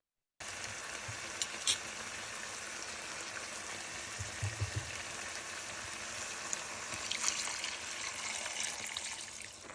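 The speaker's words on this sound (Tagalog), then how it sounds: "kulo lang ng kulo hanggang sa lumambot ang ating pork belly adobo" Pork belly adobo with garlic, onion, soy sauce, oyster sauce, vinegar and bay leaf simmering in a pot, giving a steady close sizzle and bubbling with a few brief clinks, with no one talking.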